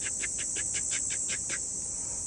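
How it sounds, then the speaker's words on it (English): Crickets chirp at night, a fast regular series of about nine pulses over a constant high-pitched hiss, moderately loud and alone. "I've got the crickets over there,"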